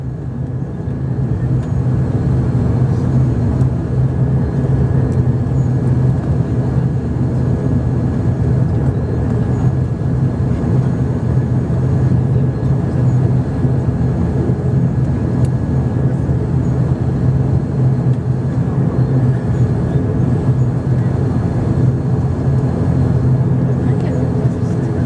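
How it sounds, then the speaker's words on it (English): Cabin of an Air Mauritius ATR 72-500 turboprop taking off: a steady, loud engine and propeller drone with a constant tonal hum persists throughout, heard from inside the aircraft. "For an immediate takeoff."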